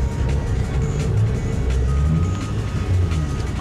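A car, an LQ, rolls into an outdoor car meet with a steady engine rumble amid a busy crowd, the vehicle noise continuous and fairly close with general background bustle.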